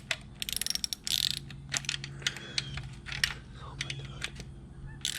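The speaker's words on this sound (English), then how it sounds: "we can now go ahead and tighten down these 2 10mm bolts" Quick bursts of sharp ratchet clicks tightening two 10mm bolts on a Ford 4.0L SOHC V6 engine during timing chain work, close and crisp, with short pauses between strokes.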